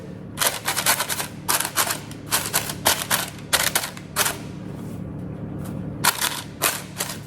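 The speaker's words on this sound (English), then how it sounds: "Put my mitts back on just so I can open up the parchment paper a little bit." Crinkly parchment paper being opened up inside a hot Dutch oven holding sourdough bread, giving a string of sharp crackling bursts over about seven seconds, close and fairly loud, with no talk.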